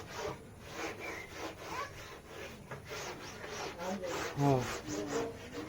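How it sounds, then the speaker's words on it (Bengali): A wooden cabinet surface being rubbed by hand, giving soft repeated scraping strokes at close range while a voice speaks briefly over the work. "হ্যাঁ, মুড়িটা ঘষা দাও।"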